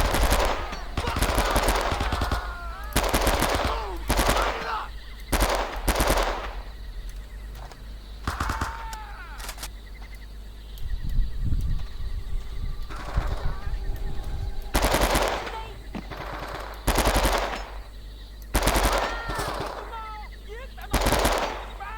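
Loud, close bursts of AK rifle gunfire in the video game Men of Valor, with irregular automatic volleys and short pauses between them across the stretch.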